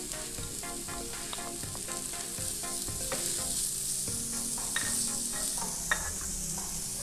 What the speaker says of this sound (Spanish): Agregamos el pimiento y la cebolla finamente picada.